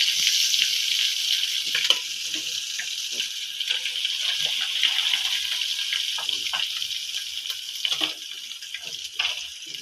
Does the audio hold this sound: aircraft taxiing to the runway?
no